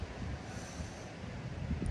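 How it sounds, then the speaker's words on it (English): Wind buffets a microphone outdoors in New Mexico, a continuous low rumbling roar with gusty swells and no speech. "hopefully you can hear me because it is windy"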